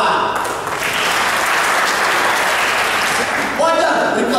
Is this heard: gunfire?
no